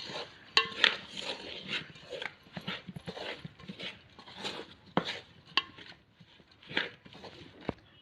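Puffed rice being mixed by hand in a bowl, heard as irregular close rustling and scraping with a few sharper clicks against the bowl, no talk.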